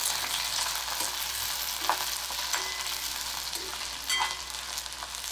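Chopped onion frying in oil in a pan for a restaurant-style mushroom masala, giving a steady close broadband sizzle with occasional stirring scrapes and small pops, no voices.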